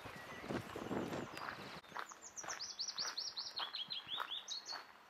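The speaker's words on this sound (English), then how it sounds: "That's a willow warbler, I do believe." A willow warbler sings outdoors in spring near the Thames, its rapid descending phrase of sweet whistled notes repeated clearly over soft background noise.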